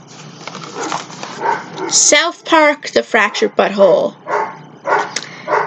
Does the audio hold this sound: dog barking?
yes